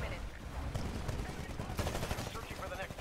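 Rapid gunfire crackles in a fast-paced shooter match with Titans, a dense run of sharp shots layered over one another, loud and close amid battle noise.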